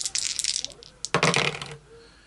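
Two yellow dice and one blue die clatter onto the table in a Massive Darkness board game, a quick burst of hard plastic rattling and skittering that settles after a second or two.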